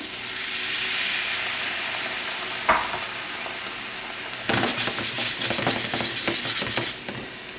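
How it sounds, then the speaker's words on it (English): Shallots being deglazed with white wine in a hot pan: a steady broad sizzle and hiss throughout, a brief splash of liquid hitting the pan partway, then busier scraping and stirring rubs toward the end. "I'm going to deglaze with the white wine."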